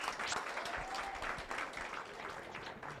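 Audience applause at a seminar in Nairobi for DJ Ray, a DJ who teaches DJs: steady, dense clapping from a crowd that holds for about three seconds at moderate level, with faint voices underneath.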